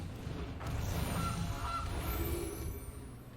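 A goose honking as a card sound effect in the digital card game Magic: The Gathering Arena, a few nasal honks over steady low background noise, fairly near and moderately loud.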